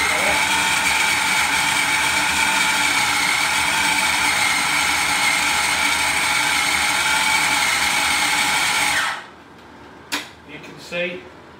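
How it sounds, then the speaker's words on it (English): Blender whizzing wild boar belly pork with onions, garlic salt and black pepper runs as a loud, steady whirring grind for about nine seconds, then cuts off, followed by a few faint clicks and knocks. "So basically I'm going to whiz them together and blend them together."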